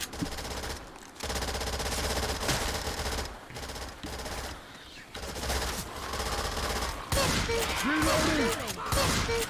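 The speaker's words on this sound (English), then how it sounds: "Man, I'm gonna have to get used to that shotgun sound." Shotgun fire in a video game, a string of loud blasts in irregular bursts broken by brief gaps, with game sounds and a voice mixed in toward the end.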